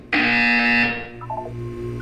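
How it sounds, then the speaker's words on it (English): A loud electronic buzzer from the video game Portal 2 sounds once, a harsh sustained tone of under a second, followed by a fading electronic tail. "You will hear a buzzer."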